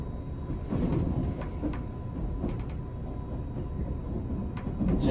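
Steady low rumble of a train rolling and slowing into its terminal station, heard inside a private Green Car compartment, with faint clanks and squeals over a continuous mechanical drone.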